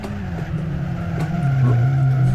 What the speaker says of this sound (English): That was a wonderful skid.